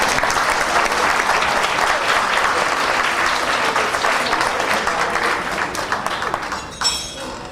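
Audience applause for three dignitaries at a welcome and orientation program: a dense, sustained wash of clapping from a large crowd that holds steady and then thins out toward the end.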